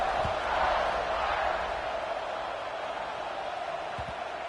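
Stadium crowd in the College Football 26 video game before a kickoff, a steady broad roar of cheering that holds throughout with faint thumps near the start and end.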